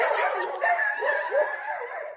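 A dog barks and yips in a few quick, close, loud bursts with whiny tones, heard alone without talk.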